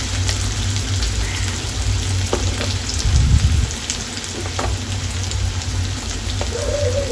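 Asafoetida hitting hot oil in a pan for a Khandeshi dish, a loud, steady, close sizzle that holds throughout with a brief surge of crackle midway.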